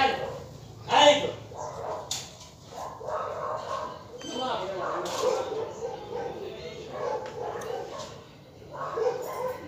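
Dogs bark and yip in short bursts amid a busy household, with people talking and calling out over them; the barks sound close and moderately loud.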